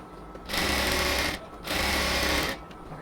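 A sewing machine stitches beside the elastic on a cotton palazzo waistband, running in two loud, steady whirring bursts of about a second each with a short pause between.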